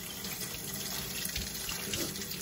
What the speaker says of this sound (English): I'm just going to wash it off really quick here.